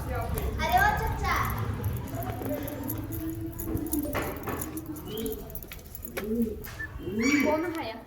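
Pigeons coo repeatedly at a pigeon house in Banaras, soft throaty calls over busy outdoor ambience with people talking nearby.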